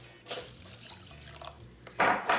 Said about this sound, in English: We're going to add some water to it.